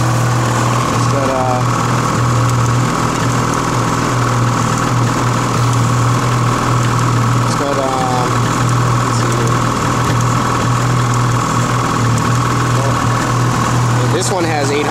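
A Ski-Doo 600 HO 50th Anniversary Edition snowmobile engine idling outdoors, a loud steady low hum with a constant drone throughout, with someone talking over it.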